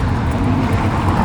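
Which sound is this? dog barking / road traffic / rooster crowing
road traffic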